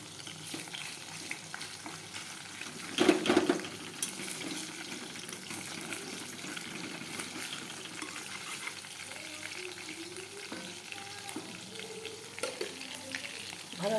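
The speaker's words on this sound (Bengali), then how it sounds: "চিকেন পকোড়াটা ভাজা শুরু করে দিলাম" Chicken pakora frying in oil, a faint, steady sizzle close by, with a louder burst of crackling near the start and a few light clinks of utensils later on.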